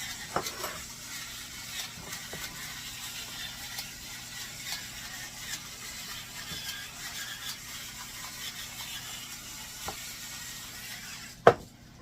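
Onions fry in a pan for pork chops with a quiet, even sizzle, scattered small clicks of stirring, and one sharp metallic clank near the end.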